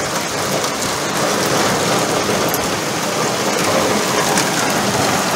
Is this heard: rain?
yes